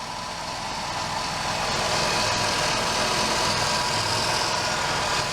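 A Dodge Caravan engine idling after an engine flush and oil pan gasket replacement, a steady close-up rumbling drone that swells slightly at the start and then holds even with no talk.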